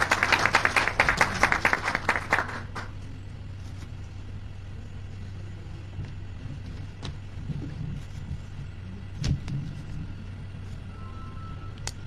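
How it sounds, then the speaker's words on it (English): A short burst of audience applause at a university partnership signing ceremony fades out after a couple of seconds, leaving a quiet hum with occasional faint knocks. "A round of applause for him."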